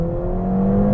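Stage 2 Ford Fiesta ST with a short shifter accelerating hard on a country road, its engine a steady, loud, close drone with a strong low hum, running continuously for the whole second without any voice.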